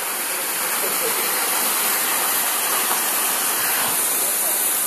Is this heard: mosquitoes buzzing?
no